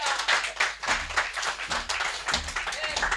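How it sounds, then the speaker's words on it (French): A church congregation claps in a steady, rhythmic beat during a French-language service, the claps close and lively with voices mixed in. "Applaudissez pour la gloire de Dieu."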